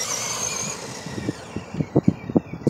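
A small WLToys A979B RC car runs on a street, its electric motor giving a thin whine that fades into the distance. Several rough, gritty bursts follow close by as the wheels scrabble over the pavement.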